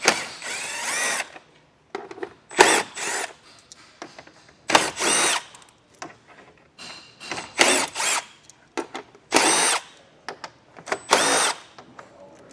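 Power drill backing out T30 Torx screws on a 2024 Jeep Grand Cherokee, repeated short whirring bursts with pauses as each screw comes out, close and fairly loud, no voices.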